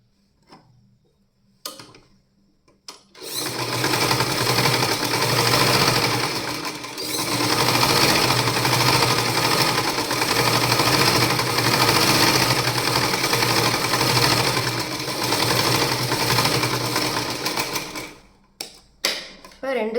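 A sewing machine stitches a cloth bag. After a quiet start it runs in a fast, continuous mechanical chatter, with a brief dip midway, then stops near the end, followed by a few short bursts.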